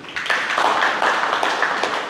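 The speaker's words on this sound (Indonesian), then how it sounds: "Tepuk tangan dulu." Audience at a school motivation event clapping hands together, a brief dense burst of applause that holds steady for about two seconds, fairly close and loud, with no talking over it.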